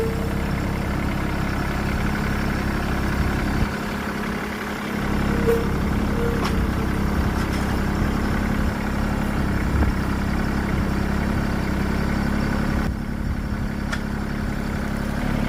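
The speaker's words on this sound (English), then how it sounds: "We're going to hook up the tractor to it real quick just to make sure everything works." A tractor engine idles steadily with a low, constant rumble throughout, close by, with a brief dip in the middle, while hooked up to tractor forks.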